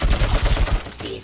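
Rapid gunfire in RoboCop: Rogue City, a loud burst of about five or six heavy, evenly spaced shots in quick succession that trail off into a brief echoing tail.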